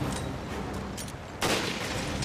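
Dense gunfire in the video game Resident Evil Revelations, a steady wash of shots that swells abruptly louder partway through, with no voices over it.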